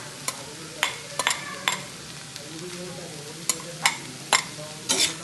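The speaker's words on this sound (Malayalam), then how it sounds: "നന്നായി ഒന്നത് ഇളക്കാം" Fried chicken pieces being stirred in a frying pan over a steady background sizzle, with a series of sharp scraping and clinking strokes of the spoon against the pan at irregular intervals, close and clear, no talking.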